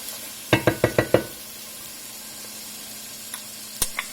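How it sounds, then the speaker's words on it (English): Minced meat cooks in a pan while onions and carrots soften, bringing a soft steady sizzle and a quick run of five sharp knocks from a utensil hitting the pan, followed by a few more scattered taps. "we're going to start by putting in the minced meat so we can cook that"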